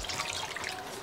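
Vegetable broth pours in a steady liquid trickle for about a second, close and moderately loud, with faint splashing texture.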